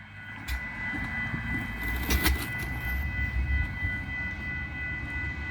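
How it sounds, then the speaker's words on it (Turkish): A low, steady rumble of a train builds under a faint hum, with scattered clanks and a sharp bang midway. "Tren geliyor."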